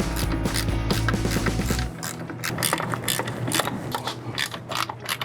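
A ratchet clicks rapidly and close while a mechanic removes the bolts that hold a brake master cylinder to the power brake booster, a dense mechanical whirring that changes to a looser clicking partway through.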